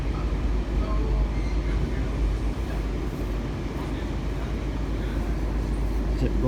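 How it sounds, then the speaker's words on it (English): A commuter train rumbles at a rail station, a loud continuous low drone and rolling roar filling the whole stretch, with faint voices in the background. "Yeah, there is a train over there."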